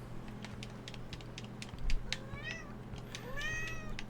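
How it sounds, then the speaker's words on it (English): A cat meows a few times, short rising and falling cries close by, over quiet keyboard-like tapping and a low background hum. "Stop meowing, Paul."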